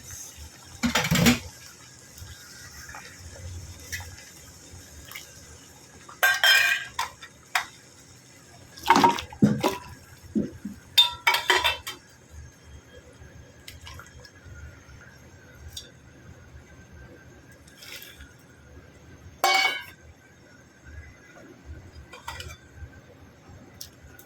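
Dried coconut and fish soup ingredients for a Chinese soup drop into a pot of boiling water, giving several separate splashes and clatters at irregular intervals over a steady low bubbling.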